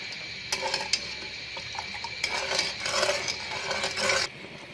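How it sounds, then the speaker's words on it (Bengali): A spoon stirs a pan of sugar syrup being cooked to one-thread consistency for Afghan sheer pira, giving soft scraping and clinking strokes in irregular bursts over a steady bubbling hiss, close and with no voices. "আমার সিরাপটি হওয়া পর্যন্ত আমি নেড়ে এক তারের শিরা তৈরি করব।"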